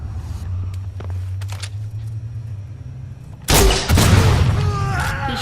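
Gunfire in the video game Watch Dogs 2, a few faint shots over a low engine hum, then a sudden loud burst of blasts and rapid gunfire that stays dense to the end.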